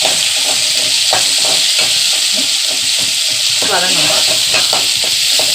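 Tomatoes sauté for sambar in a pan, giving a loud, constant close-up sizzle and hiss with repeated stirring scrapes and clacks throughout.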